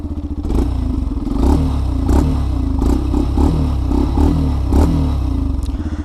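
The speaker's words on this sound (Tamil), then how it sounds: "ஸ்டார்ட் பண்ணி பார்த்துருவோம்." A 2026 Yamaha FZ Rave 155cc motorcycle engine turns over and settles into a loud, close idle with a steady chugging pulse and a few clattering knocks.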